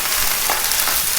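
Steak frying in a hot pan, a dense, close hiss of sizzling with small scattered pops and crackles, loud and continuous over a brief moment, no talk.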